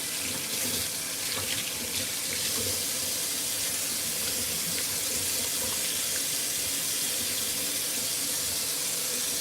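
Hands being washed under a running kitchen tap, a steady broadband splash and hiss of water that continues unbroken for several seconds with no talking.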